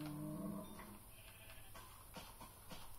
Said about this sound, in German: Es war eine Kuh, die war doch schon tot. Wie kann sie dann noch Mu sagen?